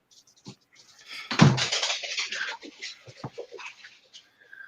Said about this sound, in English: That dog sounds excited